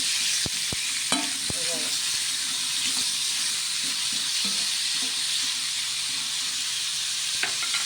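Ash gourd sautéing in oil for a fasting-day vegetable dish, a steady close sizzle with a few sharp spoon clicks and stirring scrapes against the pan near the start, no talk.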